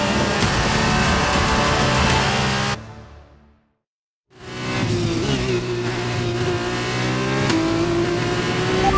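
F2 race cars roar past in F1 2021 during the Abu Dhabi season finale, loud high-revving engines with shifting pitch, cut briefly by a moment of near silence before the engine noise surges back.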